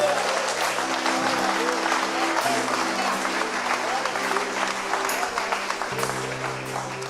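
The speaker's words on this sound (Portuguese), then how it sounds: "Só quem crê, dá glória a Deus e aplaude a Jesus." A church congregation applauds during a worship service, steady dense clapping with a sustained musical tone underneath and voices mixed in.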